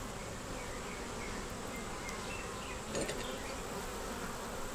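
Honey bees at a hive during queen-cell inspection make a steady, dense buzz that stays close and even throughout, with no talk over it.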